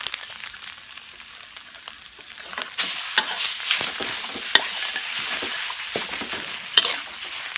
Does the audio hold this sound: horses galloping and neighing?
no